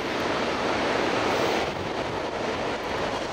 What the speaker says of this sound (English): we're at the Loch Sport Surf Beach Lookout